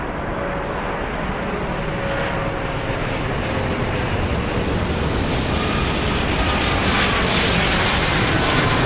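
Steady, loud airliner engine roar from the video game Airport Madness as a plane lands, a continuous broadband rumble that swells slightly toward the end, with no talking.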